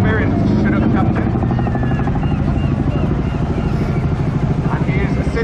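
A Chinook helicopter flies a display at the Blackpool Air Show, its twin rotors beating in a loud, rapid, continuous thump with engine whine over the top.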